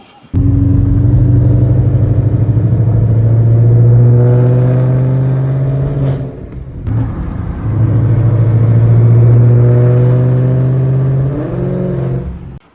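Ford Mustang with a loud modified exhaust revving hard and close, two long sustained high-rpm holds with a brief drop between, a deep droning tone that rises and falls.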